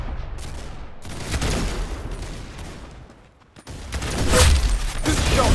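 Gunfire in the Roblox game Arsenal crackles in dense, loud bursts, dropping away briefly in the middle before another heavy volley, with no talking.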